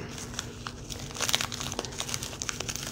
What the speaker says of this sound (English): Tape and bubble wrap, tape and bubble wrap.